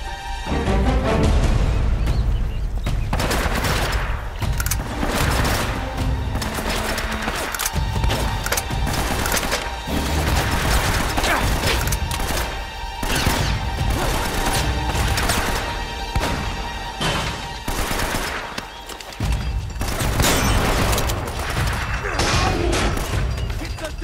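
Mounted gun in Uncharted (Nathan Drake Collection, Uncharted 1) firing in a long continuous loud burst, with cracks, splintering wood and crashing debris in a dense game battle, brief voices shouting over it.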